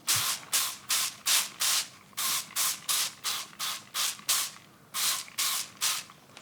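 A spray bottle hisses in quick repeated bursts over houseplants, a steady rhythm of short sprays close up with brief pauses between them.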